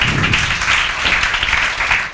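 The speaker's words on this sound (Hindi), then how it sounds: "बजाओ भाई, तालियां बजाओ" Classroom of students applauding on request at a coaching class, a steady burst of brisk clapping from a small group, close and continuous for a couple of seconds.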